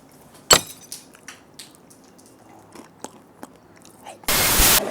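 Crunchy Ecuadorian snacks chewed up close, a sharp bite followed by scattered crisp crunches and mouth clicks, ending in a loud burst of rustling noise.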